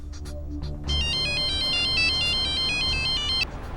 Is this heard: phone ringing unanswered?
yes